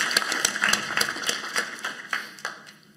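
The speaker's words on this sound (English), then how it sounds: "Another round of applause." A small group claps in a brief, fairly sparse round of applause, individual hand claps standing out as it tapers off over a few seconds.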